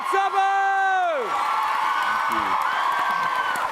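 Crowd at a TwitchCon Amsterdam 2022 panel whoops and cheers loudly after a long sustained synth tone fades, with a steady wash of applause and shouting running to the end.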